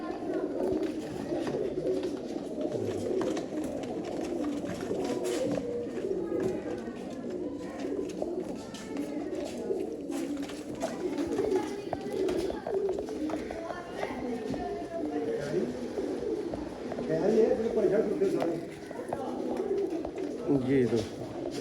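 Sialkoti pigeons, including two females, coo in a low, continuous murmur at close range, with voices talking over them throughout.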